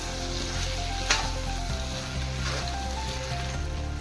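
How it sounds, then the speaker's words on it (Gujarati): Cooked rice being stirred into sizzling spice masala in a pan for Mexican rice, a steady frying hiss with a spoon scraping and turning through it, close and continuous with no talk. "તો હવે હું એમાં નાખીશ રાઈસ. હવે હું આને હલાવી દઈશ."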